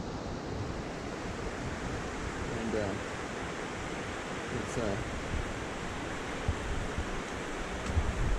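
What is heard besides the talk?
small stream flowing downhill through a mossy forest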